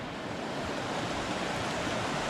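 River water pouring over a weir, a steady broadband rush of flowing water that holds constant and loud throughout, with no voices over it.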